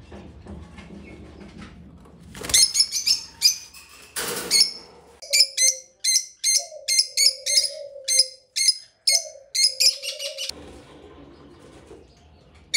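Lovebirds on a farm make a burst of sharp, high chirps, followed by a rapid series of about a dozen close, loud chirps. Soft, low cooing notes run underneath.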